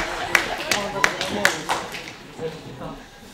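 A short burst of scattered hand claps from an audience at a quiz final, a few sharp distinct claps standing out, fading away after a few seconds.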